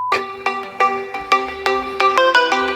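The default jazzy ringtone of a Realme 15 Pro phone, Game of Thrones Edition, plays loud and clear as a bright plucked melody with steady, evenly spaced notes, heard alone.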